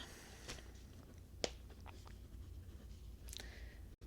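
A pen scratches out a quick note of a measurement in a quiet lingerie-boutique fitting room, a few short, soft strokes close by with brief pauses between them.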